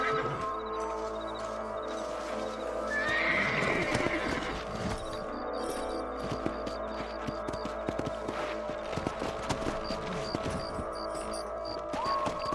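Horses whinny and hooves clip-clop in Red Dead Redemption over a busy game soundtrack with ambient music and effects, steady and moderately loud throughout.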